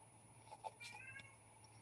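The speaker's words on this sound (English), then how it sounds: "I hear my cat meowing in the background." A cat meows faintly in the distance, a couple of soft drawn-out cries over a quiet room hum.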